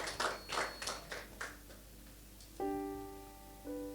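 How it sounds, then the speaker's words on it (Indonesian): A worship congregation at an Easter service claps hands in a short burst of about five or six loud claps, then the clapping fades as a sustained organ-like tone enters. "beri tepuk tangan untuk diri sendiri"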